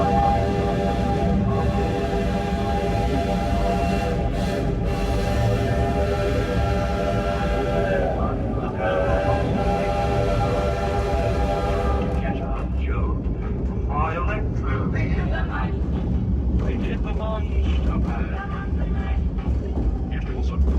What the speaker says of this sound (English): Today we're riding behind our 1929 Shay number 7.